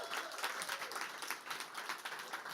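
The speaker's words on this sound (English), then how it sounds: "Round of applause." Audience applause at a demo day event at Google HQ, a steady wash of many hands clapping at moderate distance throughout, with no voices standing out.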